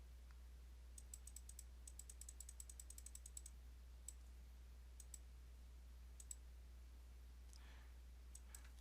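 Keys clacking on a computer keyboard while figures go into an Excel financial spreadsheet, quiet sharp clicks in quick bursts over the first few seconds, then scattered single keystrokes against a low steady hum.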